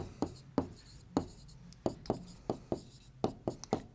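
Chalk or pen strokes on a board while writing out a class-6 algebra equation, a series of sharp, separate taps and scrapes in an uneven rhythm, close and fairly quiet, with no talking over them.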